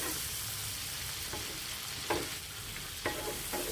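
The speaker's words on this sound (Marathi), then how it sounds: "ही खमंग फोडणी तयार झालेली आहे" A dal tempering (phodni) sizzles hard and continuously in a pan, with three or four sharp stirring knocks and scrapes rising above the hiss, close and without talk.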